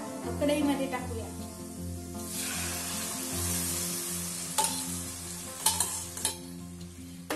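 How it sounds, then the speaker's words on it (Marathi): Lentils (dal) sizzle and fry in a hot kadhai while being stirred for varan bhaat, a steady frying hiss with a few brief clinks of a utensil toward the end. "ही जी डाळ आहे ही डाळ आपण आता कढई मध्ये टाकूया."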